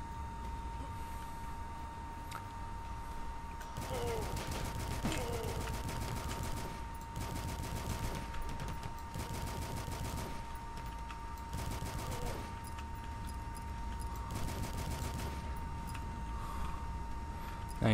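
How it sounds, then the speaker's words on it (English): Assault rifle fire in the retro shooter DUSK: repeated bursts of rapid automatic shots, several seconds each with short gaps, over a steady game soundtrack hum. "I just have to use the assault rifle to get rid of them"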